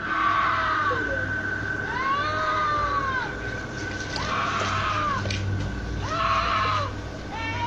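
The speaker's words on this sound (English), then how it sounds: "You can hear a woman scream." A woman screams late at night near a nightclub, a series of rising and falling wails repeated about four times at a distance, over steady low street and traffic noise.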